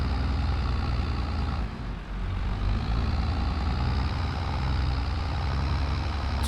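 An old tractor engine drones steadily in Farming Simulator 22 on a French wine farm, a loud continuous low rumble with a brief dip in power partway through, with no voices.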